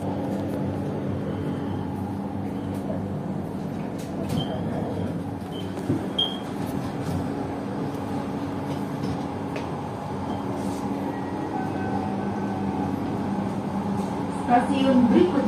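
Inside a moving driverless LRT Jabodebek train on the Bekasi Line in Indonesia, a steady low rumble and hum carries on throughout, with faint rattles and a voice now and then.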